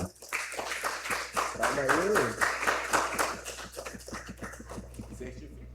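A short burst of rhythmic clapping from a few people in a church service, with voices talking over it, fading out toward the end.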